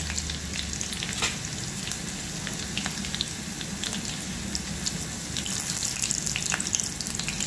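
Curry leaves and dried red chillies sautéing in a hot pan over low gas for a Maharashtrian cucumber korda, a continuous crackling sizzle with faint spatters, no talking.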